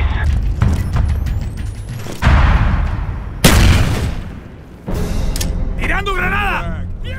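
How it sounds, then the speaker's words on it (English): Explosions in the Call of Duty Black Ops game, with several loud, sharp blasts over scattered gunfire and mechanical clatter, each booming burst trailing off briefly, and a voice heard in the background. "¡Tirando granada!"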